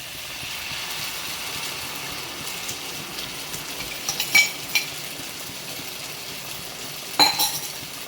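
Maida flour batter poured over chicken in a pan and stirred, a soft steady sizzle with scattered clinks of a utensil against the pan, close and without talk.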